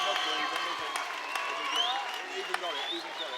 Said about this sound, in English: a big round of applause for both these men, please